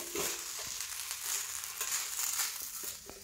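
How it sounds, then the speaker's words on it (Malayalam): Basmati biryani rice frying in ghee, a steady soft sizzle with faint crackles and a few light stirring clicks throughout, close and moderately quiet, no voices. "അത് നമ്മൾ ആവശ്യത്തിനെടുത്ത് കഴുകി നെയ്യ് കൂട്ടി അങ്ങോട്ട് വറുത്തുകൊണ്ടിരിക്കുകയാണ് ബിരിയാണി അരി"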